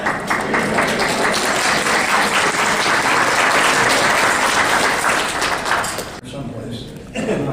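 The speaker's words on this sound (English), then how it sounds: "let's give them a big round of applause to go with all of that" Guests at a 50th wedding anniversary celebration applaud the couple, a loud, dense burst of clapping that holds steady and then tapers off, leaving a quieter tail with faint voices.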